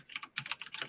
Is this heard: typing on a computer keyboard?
yes